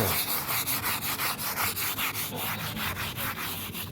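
Rhythmic scrubbing of a tombstone clean, with brisk back-and-forth rubbing strokes repeating steadily at about four per second, close and fairly loud.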